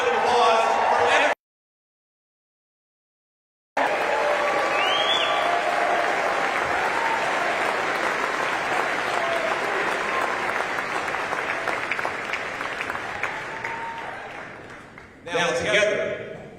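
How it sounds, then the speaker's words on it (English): A political rally crowd in Las Vegas breaks into loud, sustained applause, a dense clapping roar that tapers off gradually, with a speaker's voice around it. "Let's give them a round of applause for everyone."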